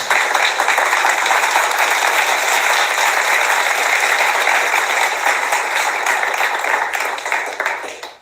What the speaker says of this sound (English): That deserves another clap